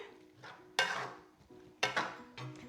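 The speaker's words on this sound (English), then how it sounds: "Give it a stir through." A spoon clatters against a pot while saag paneer seasoned with nutmeg and black pepper is stirred, giving two sharp metallic knocks with softer scraping between them, close and fairly quiet.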